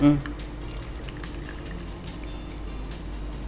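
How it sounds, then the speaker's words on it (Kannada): Water pours steadily into a cooking pot, a continuous gurgling stream after a brief knock at the start, with a voice murmuring in the background. "ನೀರು ಹಾಕ್ಲಾ?"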